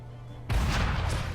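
A cannon fires in the Assassin's Creed video game: one sudden loud boom after a short quiet lead-in, followed by a sustained rumbling tail.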